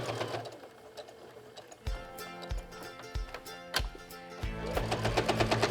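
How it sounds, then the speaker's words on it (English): A sewing machine stitches around the edge of a fold-and-stitch wallet in bursts of rapid needle clatter, with short pauses between runs, close and fairly loud. "Sew all the way around."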